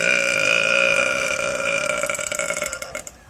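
A woman lets out one long, loud, drawn-out burp that holds steady before breaking into a rattling, fading finish, close and alone.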